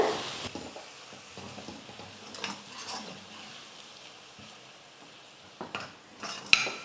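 Egg with chopped beans stirred in a pan on medium flame, a spatula scraping and clinking against the metal with soft frying underneath, ending in a sharp clack.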